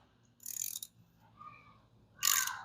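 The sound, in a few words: socket ratchet loosening a bolt on 1947 Ford truck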